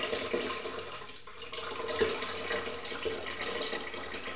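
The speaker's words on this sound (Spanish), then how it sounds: "Y seguimos llenando la pecera." Water runs into a divided betta fish tank in a home breeding setup, a soft, steady trickle and splash that continues for several seconds, fairly quiet and without voices.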